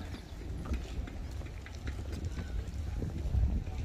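Horse hooves clip-clop on a path at a chateau park in Prague, steady footfalls under broadband wind and outdoor noise with faint talk.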